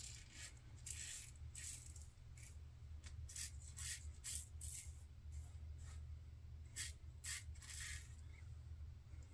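A Blackland safety razor scrapes through lather and whiskers in short, rhythmic rasping strokes, close and quiet, repeating about a dozen times over a low background hum.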